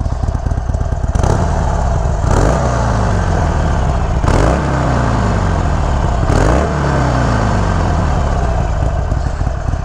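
A 2021 Harley-Davidson Iron 883 motorcycle is ridden hard, its loud, close engine revving up repeatedly through several gear shifts, each pull rising in pitch before dropping at the next change.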